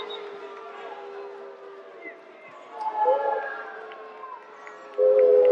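Crowd noise rises and swells from an indoor girls' high school basketball game after a referee's call, with shoes squeaking on the court and a whistle-like tone near the end, heard under a commentator's voice.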